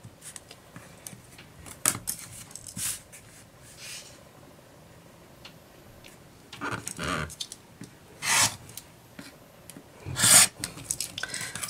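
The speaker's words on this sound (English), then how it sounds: "So you just trim two sides and pivot it to the other two sides." A rotary cutter slices fabric along a ruler while half square triangle quilt blocks are trimmed; soft rasping strokes come in irregular bursts, with a few louder cuts near the end, close by and without talk.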